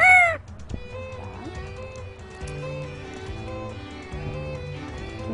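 Parrot imitating a rooster's crow, one short warbling cock-a-doodle-doo at the start, followed by quieter clucking chatter and a person speaking in the background.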